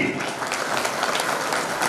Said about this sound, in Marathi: टाळ्या त्या मातेच्या साठी